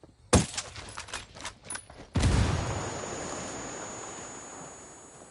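A grenade blast in Ghost Recon Wildlands: a sharp bang, a few scattered cracks, then a second heavy boom that rolls off into a long, fading rumble, with no talking.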